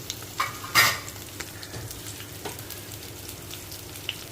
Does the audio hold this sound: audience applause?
no